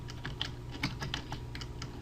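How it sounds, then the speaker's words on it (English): Quiet, rapid clicking of computer keyboard keys as a short word is typed, a quick irregular patter of light taps close by. "I'm going to go ahead and type home"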